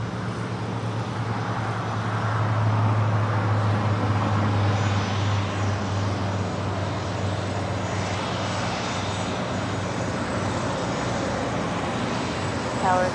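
A former Northwest Airlines jet, delivered in 1996, roars steadily at LAX airport, its broad engine rumble loud and continuous throughout with a low droning hum underneath.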